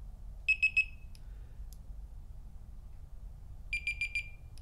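Fishing bite alarm sounding at different sensitivity settings: a crisp electronic beep repeated three times, then after a pause a second burst of four quicker beeps, loud and close over a low background rumble.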